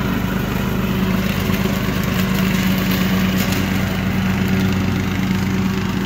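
A Craftsman T2400 riding lawn mower runs steadily, its engine holding a constant droning hum with a buzzy edge, loud and close with no break over several seconds.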